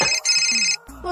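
A phone ringtone for an incoming call plays loudly and close, a bright electronic melody in short phrases with a brief gap, alone before any talk.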